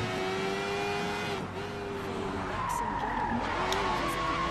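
A car in the video game Sleeping Dogs power slides with steady tire skidding and a droning engine, continuous and fairly loud, while someone talks over it.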